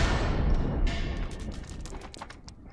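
A propane tank blasts in Grand Theft Auto IV during a gunfight: a loud, rumbling explosion opens and then fades into scattered gunfire and crackling debris.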